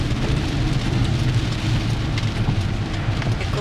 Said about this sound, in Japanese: すごい雨。